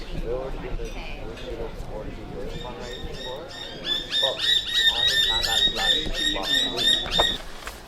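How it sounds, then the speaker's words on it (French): Small birds chirp and squawk repeatedly around a café in a botanical garden in Alice Springs, Australia, the calls growing busier and louder in the second half while a person talks throughout. "Avec des petits oiseaux autour de moi, regardez."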